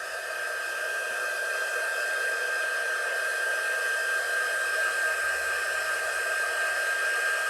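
A hair dryer runs steadily at close range, blowing on freshly painted light-up tea light word ornaments for Christmas, a constant whirring roar with a strong motor whine that holds unchanged throughout with no talking.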